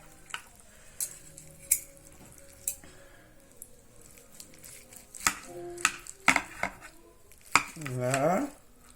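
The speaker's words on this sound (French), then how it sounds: "je vais couper un morceau, hein, pour que vous voyez ce que ça donne" A knife cuts slices from a stuffed roast turkey on a board, soft scattered clicks and scrapes of blade and cutlery, close and quiet, ending with a brief louder rustle.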